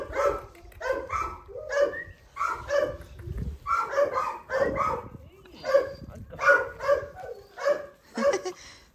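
Young Rottweilers bark repeatedly in quick, rhythmic bursts mixed with yips and whimpers, close by and loud, while a person talks among them.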